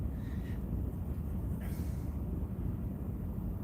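A heavy Norfolk Southern material freight train rumbles past at a distance, a continuous low broadband roar with a faint squeal near the start, steady throughout.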